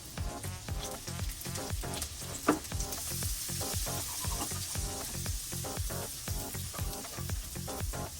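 Butter melts and sizzles in a pan with a whole chopped jalapeno for homemade fried chicken sisig, a constant hiss broken by rhythmic stirring clicks, close and alone without talk.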